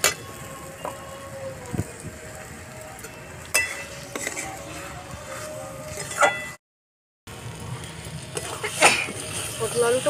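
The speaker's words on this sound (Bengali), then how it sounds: "এবার ভেজে রাখা আলু পটলটা দিয়ে দেবো। ভালো করে কষাতে হবে আলু পটলটা মশলার সঙ্গে।" Potatoes and pointed gourd, already fried, being sautéed with spices in a pan, with steady sizzling, stirring scrapes and occasional clinks of a utensil against the pot, close up, with a short break partway through.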